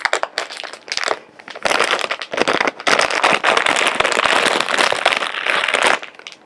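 A foil bag holding an inner foil bag with a Ziploc is handled and opened, producing loud, close crinkling and crackling that runs almost continuously with brief pauses.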